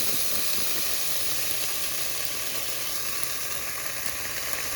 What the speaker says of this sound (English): I have the tiniest bit of oil heating up in my pan.